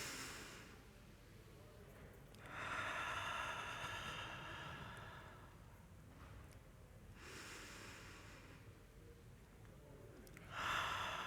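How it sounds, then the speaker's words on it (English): Long, slow breaths drawn in and let out during a guided breathing exercise at a talk, several airy inhale and exhale swells close to the microphone in an otherwise quiet room. "we're going to take 3 long inhales and slow exhales"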